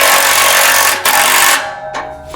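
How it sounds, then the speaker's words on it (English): Steady, loud metallic ratcheting of a 3/4 inch wrench and socket tightening bolts during assembly of a MegaSport base trailer, continuous for about a second and a half, then a brief second burst, with no talk. "You want to use your 3/4 inch wrench and socket."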